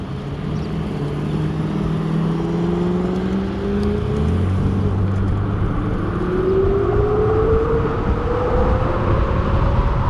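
A car engine drones loudly and revs up, its pitch climbing steadily across several rising sweeps, with a rough nasty tone and no talk.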